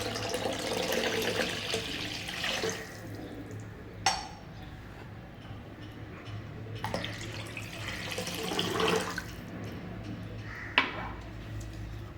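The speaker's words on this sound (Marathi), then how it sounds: "दह्यामध्ये पाणी घालून घेऊया।" Water is poured into set yogurt in a pot for Rajasthani kadhi, heard as trickling and splashing in a few bursts, with light clinks between them.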